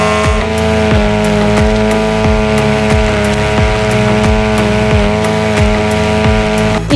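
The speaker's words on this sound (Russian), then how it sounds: "Возьмем вместо лески пластиковые стяжки. Надеваем на триммер одну и вторую." A string trimmer fitted with plastic zip ties instead of line runs at a steady high-pitched whine, with evenly spaced low slapping pulses repeating throughout, loud and close.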